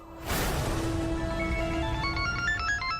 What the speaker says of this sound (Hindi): देखिए किसका फोन है।